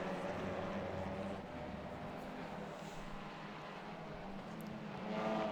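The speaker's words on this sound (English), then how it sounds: "There is a bit of a bunch of cars forming here." Race car engines in an iRacing league race, with a pack of cars bunched together: a continuous blended engine roar at steady volume, rising slightly at the end, with no speech.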